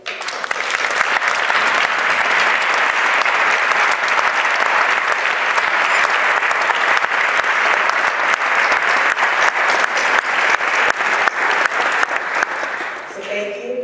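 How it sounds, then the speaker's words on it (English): Large audience at a Martin Luther King Jr. commemoration at Washington University bursts into sustained, loud applause lasting about fourteen seconds, even and dense before tapering off at the end. "please have a round of applause for all the work and Dr. King's dream coming true."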